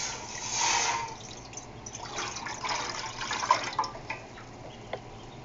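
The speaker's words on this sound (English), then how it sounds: "we are going to add in our apple cider vinegar" An apple cider vinegar and pineapple mix is poured into a stainless steel pot, with a splashing, bubbling pour that swells early and then tapers into lighter trickles and a few clinks.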